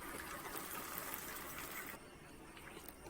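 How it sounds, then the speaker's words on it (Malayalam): Water pouring steadily into a pan of simmering garlic chicken, a continuous close gushing splash that softens and quietens near the end. "അപ്പം ഞാൻ കുറച്ച് വെള്ളം കൂടി ഒഴിച്ചു കൊടുക്കുന്നുണ്ട്."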